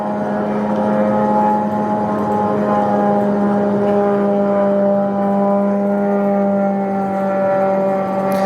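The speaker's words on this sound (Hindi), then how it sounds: "सुनिए, ये देखिए, ये ड्रोन जा रहा है" Attack drone flying overhead: a loud, steady droning engine hum with strong sustained tones, holding constant for several seconds without a break.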